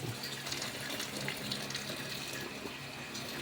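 Broth pours over fish in a cooking pot, a steady, close splashing and gushing of liquid that runs unbroken and fairly loud throughout.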